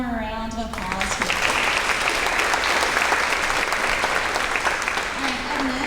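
A crowd breaks into loud, sustained applause lasting several seconds, with a voice speaking briefly before and again at the end.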